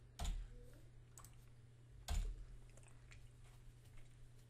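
Two distinct clicks, about two seconds apart, from a computer keyboard key being pressed, close and fairly crisp over a low steady background hum.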